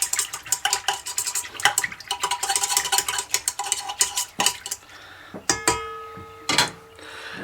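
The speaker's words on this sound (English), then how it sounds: "Give it a tiny whisk together." A whisk rattles rapidly against a stand mixer bowl holding water, dry active yeast and sugar, with a run of quick, close scraping strokes followed by a few separate clinks of metal on metal.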